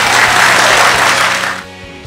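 Audience applause fills a 2010 pastors appreciation luncheon, a loud, dense clapping that holds steady for about a second and a half and then quickly dies away to quiet room tone.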